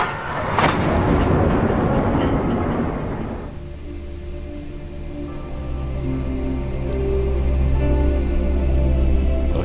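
A panorama ride moving in the video game Amnesia The Dark Descent: a loud rumbling mechanical roar settles into a steady low droning hum with a faint whine, continuous and close throughout.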